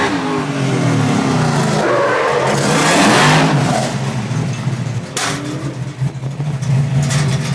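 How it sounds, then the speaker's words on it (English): A fire apparatus drives in during a firefighter competition drill, its engine revving loudly and close with tire noise as it surges past, then easing off amid outdoor ambience. "Here comes Johnny Palermo driving it in."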